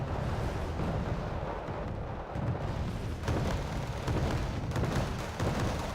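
Artillery fires repeatedly in the Cold War strategy game Wargame Red Dragon, heavy booms and rumbling blasts rolling one after another, loud and dense, with no speech.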